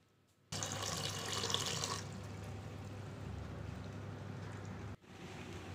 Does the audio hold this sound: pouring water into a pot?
yes